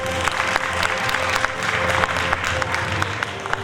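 Audience applause at an award ceremony during an international choreography ensemble festival, a dense steady clapping from a large crowd that carries on throughout.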